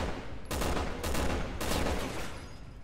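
Gunfire in Resident Evil 6 during a ship infiltration mission: several dense bursts of rapid shots in quick succession, loud and close, alone without talk.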